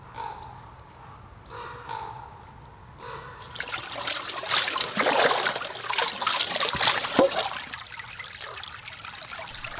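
Small river flowing past a campsite, a soft continuous trickle and babble of water that grows fuller and louder partway through, heard from close by with no talk.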